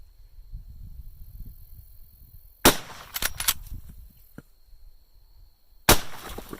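Rifle shots hit concrete blocks, from a Henry Big Boy or Marlin lever-action firing 305-grain HSM .44 Remington Magnum bear loads. Two loud, sharp reports ring out several seconds apart, with clattering debris between them and quiet outdoor ambience.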